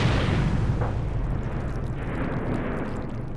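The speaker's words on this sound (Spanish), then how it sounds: "Una explosión." A deep, rumbling quarry blast breaking rock near Comonfort, Guanajuato, booms out and rolls on as a long, low roar that slowly fades into distant echoing.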